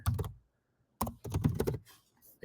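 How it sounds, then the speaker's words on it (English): Keys on a computer keyboard clatter in two quick bursts of typing with a short pause between them, fairly close and with no speech. "Again, typing, not my strong point."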